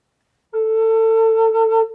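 A single clear, breathy note from a concert-tuned cedar Native American flute begins abruptly and holds steady at one pitch for about a second and a half, alone in silence.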